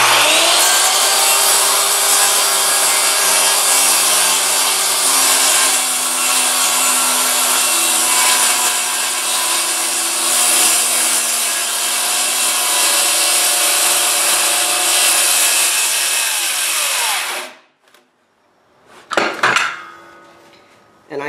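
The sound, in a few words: saw cutting a Trex stair stringer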